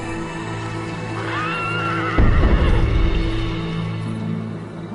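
Horses from a herd on the Mongolian steppe whinny in a rising, wavering call, followed by a burst of thudding hooves and low rumble, fairly close and clear without speech.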